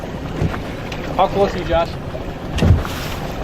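Wind buffets a fishing boat on a lake, a steady rushing roar with water sloshing against the hull, while people talk over it nearby.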